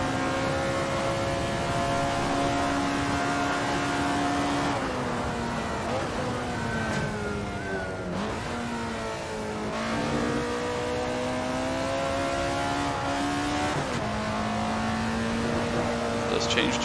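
Alfa Romeo 33 Stradale engine in the racing game Assetto Corsa, a steady loud drone held between second and third gear with rising and falling revs and gear changes, a voice talking over it throughout.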